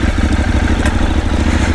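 A Ducati super sport motorcycle engine runs close by with a loud, rapid, pulsing throb and steady mechanical clatter.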